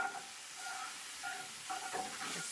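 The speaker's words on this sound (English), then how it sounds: "Just stirring that around." Garlic stirred in a sizzling pan, a soft continuous hiss and sizzle with a few brief scraping movements, fairly quiet and with no talking.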